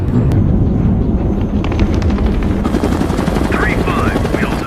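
A helicopter roars loudly and steadily throughout a war scene, a dense, continuous rotor drone with a few sharp bursts mixed in.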